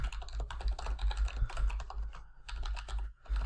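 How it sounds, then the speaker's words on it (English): Fast, close keystrokes as a password is typed on a computer keyboard, a dense clatter of clicks with a short pause near the end, no talking. "type my password."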